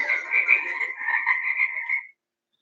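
A frog croaking sound played back by a Google Assistant smart speaker, a continuous close, clear ribbit lasting about two seconds and then stopping abruptly into silence.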